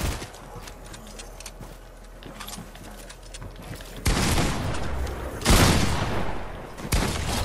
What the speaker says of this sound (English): There's guys shooting at us.